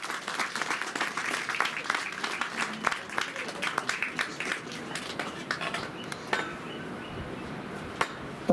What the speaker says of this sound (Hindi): तालियों में कमी नहीं आनी चाहिए।